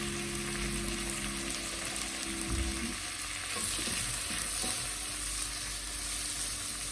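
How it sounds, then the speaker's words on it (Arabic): One large chopped tomato fries for Egyptian shawarma, giving a steady close sizzle with spatula scrapes and stirring. A low hum fades out partway through, and no one speaks. "انا مقطعه طماطمايه واحده كبيره، احطها اقلبهم شويه"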